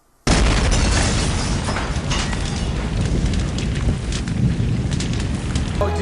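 A cannon blast from the horror movie Uncle Sam erupts suddenly into a loud, sustained roaring explosion that rumbles on for several seconds without any talk.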